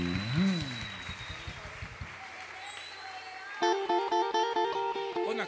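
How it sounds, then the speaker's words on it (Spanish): A church congregation in Magangué, Bolívar applauds, a brief wash of clapping beneath a preacher's voice that fades out before a keyboard melody begins. "Denle un aplauso a Cristo por la vida de este hombre."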